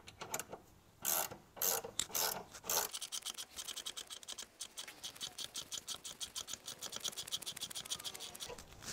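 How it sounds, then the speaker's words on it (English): Bolt and nut being tightened to press a differential mount bushing into a BMW E46, with several loud scraping ratchet strokes early on, then a fast steady run of close clicking ratchet pawl ticks. "as I drive this bushing in, this bolt is eventually going to hit this sway bar bracket"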